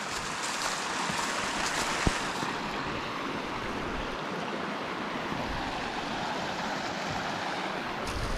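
A small creek runs beside a tent camp, its steady broadband rush of flowing water continuing evenly throughout with a faint breezy hiss and no voices.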